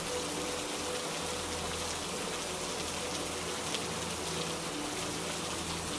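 Steady rain falls in a natural outdoor setting, a dense, even hiss of drops on surfaces that holds constant throughout with no voices.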